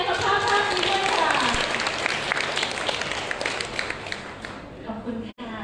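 Guests at a Thai wedding procession and betrothal ceremony clap together in a sustained, dense round of applause that slowly thins out, with a few voices mixed in underneath.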